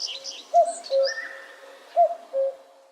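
A cuckoo clock sounds its two-note call imitating the common cuckoo, heard twice in clear, evenly spaced pairs of hollow tones against faint background twittering.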